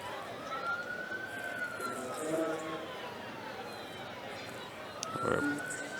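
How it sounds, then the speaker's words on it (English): A distant emergency siren wails with a rising and falling pitch, audible beyond a football stadium crowd's murmur during a playoff match, with a louder burst of crowd noise near the end. "I hear the wailing of a siren, Lance."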